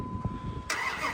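A Dodge Ram pickup engine cranks briefly then catches and fires up after a fuel pump replacement, starting loud and close and running on steadily with no talk over it.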